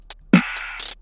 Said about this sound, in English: I'm going to print reverb on that clap.